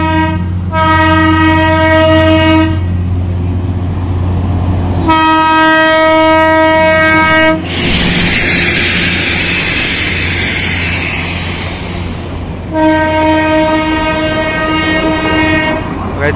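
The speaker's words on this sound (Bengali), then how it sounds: "তো ফাইনালি একটা টয় ট্রেন দেখতে পেলাম" A Darjeeling toy train passes close by, sounding long, loud horn blasts in three separated bursts, with rumbling wheels and rail noise rushing between them.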